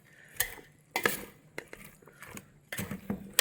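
Bitter gourd masala mixed with curd is stirred in a pan, giving a few sharp scraping and clinking strokes of a spoon against the pan in irregular bursts, fairly close, with no talking.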